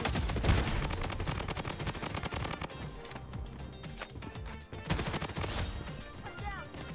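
An MP5 submachine gun fires in the shooter video game Bloodstrike. Rapid bursts of close, crackling gunfire come in quick succession, with a brief lull in the middle.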